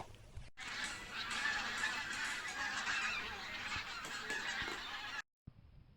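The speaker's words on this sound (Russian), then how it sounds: "Смотри, Йонас, птицы прилетают. Rändlinnud tulevad tagasi." Migratory geese honk repeatedly in early spring, a dense, continuous clamor of many calls at moderate distance, steady for several seconds before breaking off abruptly.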